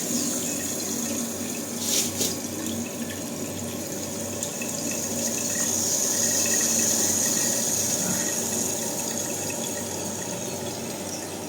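Water runs and splashes steadily as a toilet cistern refills after a new float valve is fitted, with a couple of brief knocks early on and no talk.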